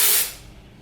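Dry shampoo aerosol can sprayed onto hair, a single short, close hiss that cuts off after a fraction of a second and leaves quiet room tone.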